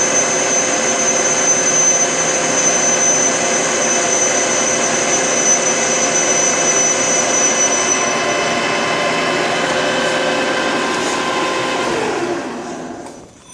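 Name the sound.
Harrison M300 lathe running, finishing a cut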